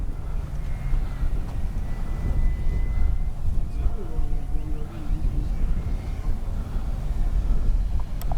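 An Avios Super Tucano RC model airplane takes off, its motor giving a continuous whirring roar over outdoor rumble, with faint rising tonal whines partway through.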